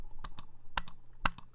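Keys are pressed on a computer keyboard: several crisp, close clicks come in uneven pairs over a low hum, with no voices.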